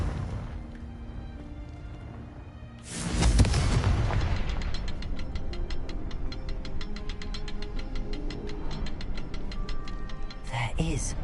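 Confringo blasting spell bursting in Hogwarts Legacy at Rookwood Castle: a sudden loud boom erupts midway and rumbles on under a dense crackling, rhythmic tail, with game music or effects running throughout.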